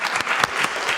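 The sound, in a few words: applause for Ann Stokes at a council meeting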